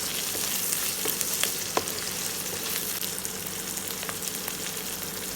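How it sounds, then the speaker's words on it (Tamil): Onions and garlic sautéing in oil for a mackerel fish curry, a continuous close hiss of frying with occasional stirring taps and scrapes of a utensil against the pan. "வெங்காயம் வதங்கிக்கிட்டே இருக்கக்குள்ளே பூண்டை போட்டுக்குவோம்."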